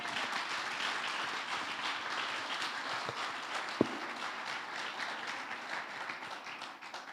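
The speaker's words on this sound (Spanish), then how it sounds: "Dele un aplauso fuerte al Señor" Steady applause from a church congregation, a broad wash of clapping that holds evenly throughout, with one sharp knock partway through.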